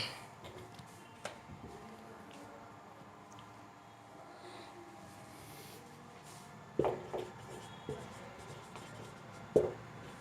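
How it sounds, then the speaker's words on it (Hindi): Someone writes a sentence on a classroom board in a quiet room. The faint scratching strokes are broken by a few sharper taps and bursts. "तो मैं इसको एक सेंटेंस और लिखता हूँ।"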